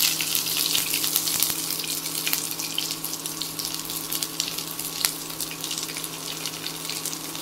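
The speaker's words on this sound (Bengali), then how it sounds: "সবগুলো সবজি আমি একবারে ভেজে নেব" Carrot and capsicum frying together in a pan for chowmein, a steady close sizzle with watery hiss and occasional clinks, continuous and alone without voices.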